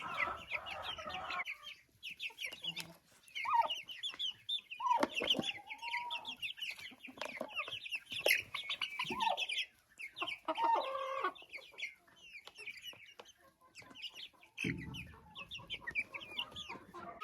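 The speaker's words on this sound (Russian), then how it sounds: "Квочка не кушает, терпит, очень хочет, но терпит, ждет, пока покушают цыплята." Broody hen clucking softly and repeatedly while her chicks feed on potatoes in a poultry pen, with chick peeps and occasional rooster-like calls around, steady and close.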